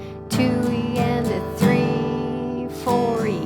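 Slow guitar strum pattern played without fretted chords: three broad, close strums about a second apart, each ringing out before the next stroke.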